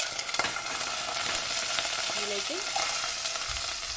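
Mustard seeds, dried red chillies and curry leaves sizzle in hot oil for an okra tomato curry, a bright continuous crackling hiss close up, with a brief spoken word over it.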